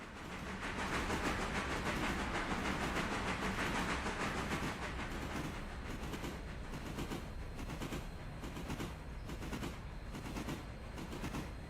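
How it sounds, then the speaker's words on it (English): An approaching train in the Railroader video game gives a steady, loud, broadband rumble and clatter that holds throughout, easing slightly toward the end. "I don't think this train's actually terribly far away."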